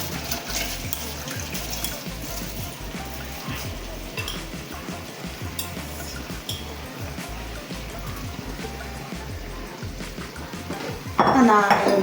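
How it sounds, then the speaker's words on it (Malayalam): One kilogram of rice is poured into boiling water for a Kasaragod-style fried chicken biryani, a continuous rushing, pattering pour with bubbling water and a clink of utensils near the end. "1 കിലോ അരിയാണ് ഞാൻ ഇതിലേക്ക് തിളച്ചതിലേക്ക് ഇടുന്നുണ്ട്"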